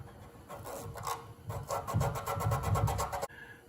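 A plumber's cloth rubbed with a fingertip inside the hole of an MG TD pedal to strip powder coating, giving close, gritty scrubbing strokes in quick repeated bursts that stop abruptly near the end.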